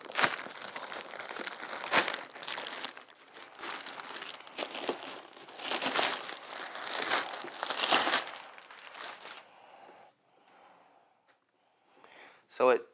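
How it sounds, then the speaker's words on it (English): Plastic packaging crinkles and crumples as an Optoma EH512 projector is unwrapped, in close irregular rustling bursts that fade to near silence before a final crackle. "Let me go ahead and unwrap this."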